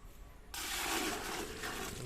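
Water poured out from a cleaned pond, starting suddenly as a loud, steady splashing gush that runs on close by after a moment of quieter murmuring.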